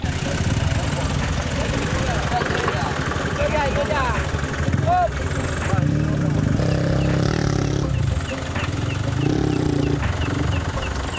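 Trail motorcycle revved at night in Aceh, its engine roaring and rising in uneven bursts over a steady idle, loud and close, while several people talk and shout over it.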